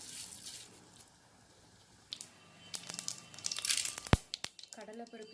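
Mustard seeds in hot coconut oil begin sputtering after a quiet start, building into faint, irregular crackles and sharp pops close by.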